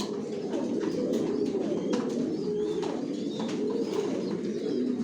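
Racer pigeons kept in a loft coo steadily and close by, a continuous layered murmur of several birds with a few faint chirps on top.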